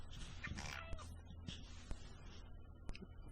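A domestic cat called Miss Kitty meows in a few short, fairly close calls, with quiet room noise and faint sharp clicks in between.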